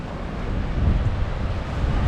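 Stormy sea waves and gusting wind roar steadily at a fishing weir in rough, rainy weather, a loud continuous rumble with no talk.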